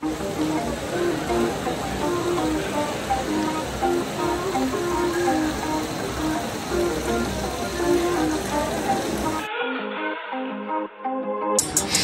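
Steady broadband rushing water from a waterfall in Australia fills most of the clip, then cuts abruptly to a brief burst of music near the end.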